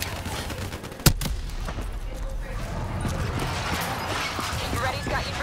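Cover gunfire in Call of Duty Black Ops 3, one sharp close shot followed by a steady wash of distant battle noise and scattered firing, with voices talking over it.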